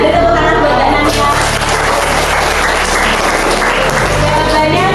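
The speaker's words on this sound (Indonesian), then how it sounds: "Beri tepuk tangan buat Mbak Nanda." A classroom group claps for a student who answered a question correctly during a lesson, producing a dense, steady wash of applause that fills the whole stretch at high level.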